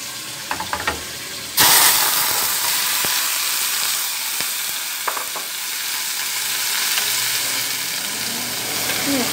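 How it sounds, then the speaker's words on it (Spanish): A pork chop fries in hot oil, a loud, dense sizzle bursting in abruptly after a few soft clinks and then hissing steadily with occasional utensil taps, close and with no talk. "Y está la chuleta sofriendo."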